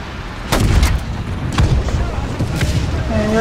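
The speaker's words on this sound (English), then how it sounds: "Bombs, I hear bombs." Bomb explosions and gunfire in War Thunder arcade tank battles, heavy booming blasts thudding repeatedly over a dense, continuous rumble of combat noise.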